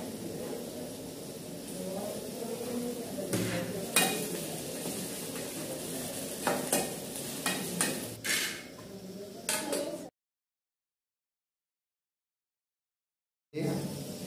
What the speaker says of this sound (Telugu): ఉల్లిగడ్డ ఉడుకుతుంది